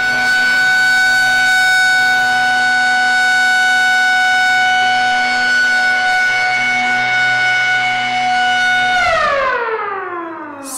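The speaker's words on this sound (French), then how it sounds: "La sirène retentit. On compte 1 coup long." A school evacuation siren sounds one long, loud, steady blast, its tone holding level for about nine seconds before sliding down and dying away.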